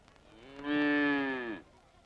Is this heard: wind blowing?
no